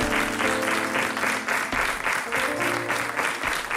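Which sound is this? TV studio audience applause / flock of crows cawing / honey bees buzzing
TV studio audience applause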